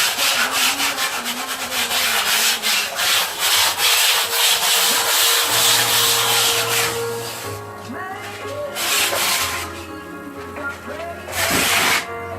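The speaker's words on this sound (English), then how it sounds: "320 grit sandpaper. That's the smallest grit you can get. And just work out any little things that don't belong there." An acrylic painted canvas is rubbed with 320 grit sandpaper in steady, close back-and-forth strokes, the scratchy rasp continuous for most of the stretch before easing near the end.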